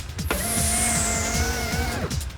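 A car with no one at the wheel approaches in a film scene, its engine tone steady and close alongside a high whine and rhythmic mechanical ticking before it cuts off abruptly.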